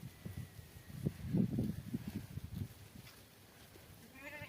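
Faint bleating of sheep grazing on a coriander field, a cluster of short calls early on and one more near the end, with quiet rustling between.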